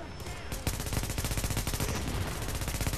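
Rapid automatic gunfire in a Tom Clancy video game rattles out as a dense, loud, close burst that runs almost unbroken for about two and a half seconds.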